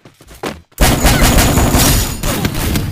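Shotgun blasts in Free Fire Max, a burst of loud, dense gunfire crashing in suddenly after a brief quiet start and continuing as a heavy, rolling barrage.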